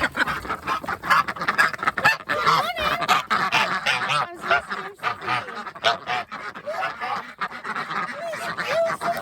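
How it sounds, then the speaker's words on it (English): A group of ducks quacks loudly and continuously, overlapping honking calls close by with no pauses. "the ducks have heard me"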